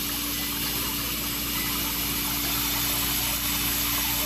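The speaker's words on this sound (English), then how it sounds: "We got a pump." A steady mechanical hum and watery whir from a pump running inside a Hoshizaki ice machine, constant and close throughout with no speech.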